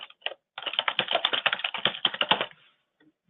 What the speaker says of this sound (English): If I type within Notepad